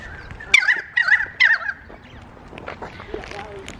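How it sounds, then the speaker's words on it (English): A flock of turkeys or similar fowl squabbling while being walked outdoors, giving three loud, close gobbling bursts in quick succession, then quieter scattered clucks and scratchy calls. "I'm just walking with a cavalcade of birdies."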